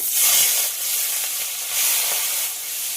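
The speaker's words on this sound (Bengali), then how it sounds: "এবার গরম তেলে নুন হলুদ মাখিয়ে রাখা চিংড়ি মাছগুলো দিয়ে দেব" Loud, steady sizzling of turmeric-and-salt-coated prawns frying in hot mustard oil, a dense crackling hiss that swells and eases slightly, with no voices.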